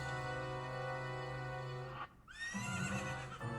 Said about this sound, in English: Is that really what a horse sounds like?